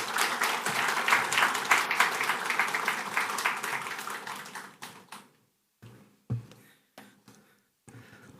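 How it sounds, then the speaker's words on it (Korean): A church congregation at a Sunday worship service applauds warmly. The dense clapping lasts about five seconds, then thins out to a few scattered claps and soft knocks. "우리 하나님께 감사하고 격려하는 의미로 박수로 한번 맞이하겠습니다."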